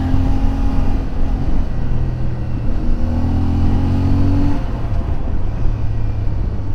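A CFMoto 450 MT motorcycle accelerating on the road, its engine note rising and shifting through gears, steady and fairly close with wind and traffic noise around.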